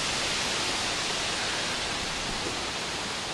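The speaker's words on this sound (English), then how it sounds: "it's getting pretty gusty out here" Gusty wind during Hurricane Irene in Virginia Beach, a steady loud roaring rush of air buffeting the microphone without letup.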